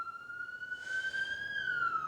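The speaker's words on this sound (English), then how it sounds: "you hear the ambulance driving by because someone needs their attention" An ambulance siren sounds steadily as the vehicle passes, a loud continuous wail sweeping slowly in pitch over about two seconds, with no talk.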